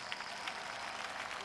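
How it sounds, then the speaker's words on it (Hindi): Crowd applause at a political rally in Khanewal, a dense steady wash of clapping from many hands lasting the whole moment, with faint voices mixed in. "हम बिलावल के नाम पे तालियां बजाएंगे"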